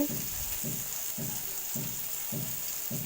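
Sankara fish frying in a pan, a steady sizzle with regular bubbling pulses about every half second, close and even.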